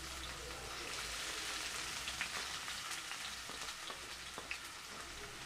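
Brinjal chicken curry with tamarind juice simmering in a pot, a dense even hiss of bubbling and gentle sizzling with faint scattered pops, steady and close throughout.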